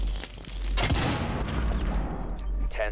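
A grenade explodes in a tactical shooter video game, a loud booming blast with gunfire-like crackle filling the whole stretch, close and heavy with a long rumbling tail.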